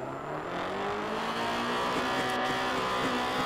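Turbocharged car engine accelerating in the Night Runners racing game, a steady loud rising engine drone with harmonic whine held throughout, no talking.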